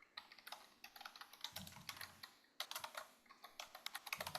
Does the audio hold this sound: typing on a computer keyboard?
yes